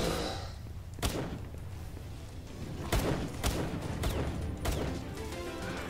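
Several sharp gunshots hitting the ground in Palworld video game, spaced irregularly over a low rumbling background, fairly close and distinct.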